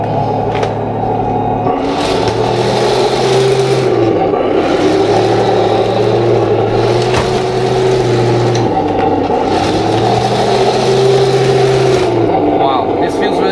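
A Heng Long Merkava MK IV PRO RC tank drives over an obstacle, its electric motor whining and rising and falling in repeated surges with track clatter, close and loud, while a voice talks over it.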